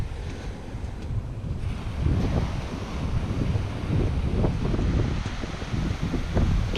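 Waves and wind on the beach at Sandsend, a continuous low rumbling wash of surf with gusty wind buffeting the microphone, loud and close, no speech.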